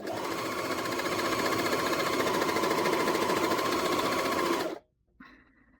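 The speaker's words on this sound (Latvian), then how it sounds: "No re, izbraucam cauri biezam materiālam." A Rubina 4564 sewing machine stitches through thick material in a loud, steady rapid whir that runs for several seconds, then stops abruptly, leaving a brief faint mechanical tail.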